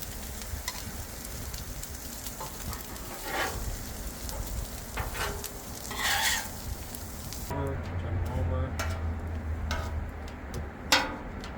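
Meat sizzles on a flat griddle as it is flipped, a steady close sizzle broken by sharp scrapes and metal taps from a spatula, with a low hum joining near the end.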